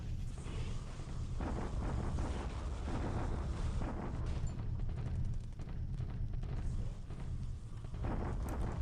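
Naval bombardment in the War in the Pacific strategy game, a continuous roar of rumbling blasts and booming artillery impacts layered over one another at a steady, heavy level, with no pause.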